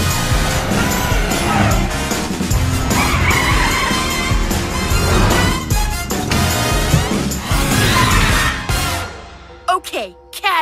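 A cartoon cat-shaped superhero car revs loudly and speeds off, engine roaring with tire squeals and skids through most of the stretch before a few sharp whooshes at the end.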